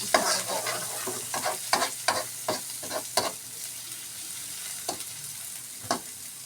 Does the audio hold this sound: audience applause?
no